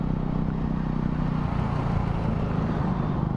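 KTM Duke 250 motorcycle with an SC Project exhaust riding in traffic, a continuous, moderately loud engine drone heard steadily throughout from the rider's position.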